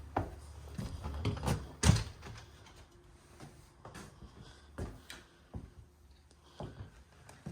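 An old original interior door in a fixer-upper house in Carson City, opened and closed with several knocks and clunks at close range. The bumps are scattered and irregular over a quiet room.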